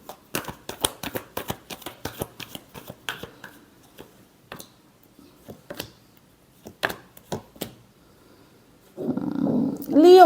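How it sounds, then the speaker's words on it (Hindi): Tarot cards are shuffled in quick crisp riffles and flicks, a run of sharp close clicks and slaps with pauses between them, ending in a louder rustling burst. "Last shuffle."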